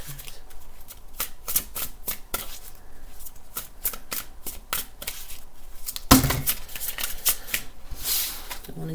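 A deck of reading cards being shuffled and drawn, with repeated crisp riffles and flicks at close range, one louder flurry partway through, and a voice speaking softly in the background.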